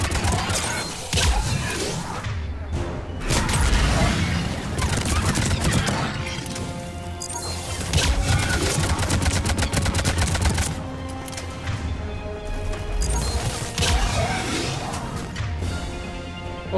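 Rapid gunfire bursts and sharp impacts crack through a Mass Effect 3 firefight, dense rattling volleys alternating with heavier blasts and debris, loud and continuous with a voice occasionally underneath.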